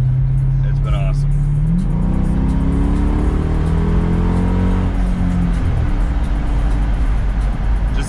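A Jeep SRT engine revs hard through loud exhaust pipes, rising through several climbing pulls of throttle before settling, very loud and close, with a voice speaking over it.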